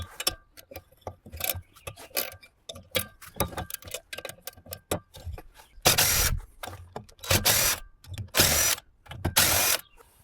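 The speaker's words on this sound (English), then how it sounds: "I'm going to go ahead and remove the bolts from the head to remove this." A power tool rasps through bursts while removing the bolts from an air compressor head, starting with short scattered whirs and clicks, then building into four longer, louder grinding runs near the end.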